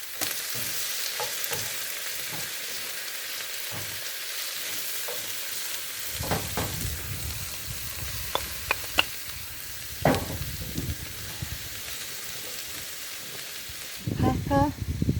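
Bacon being stirred back into darkening greens frying in a pan for black porray, a broad steady sizzle with scraping stir strokes and clatters toward the end, no talking.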